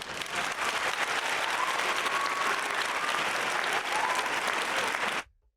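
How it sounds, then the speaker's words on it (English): Applause sound effect played on a podcast: a steady, full round of crowd clapping that holds loud and even for about five seconds, then cuts off abruptly into silence. "don't I still have a round of applause on here?"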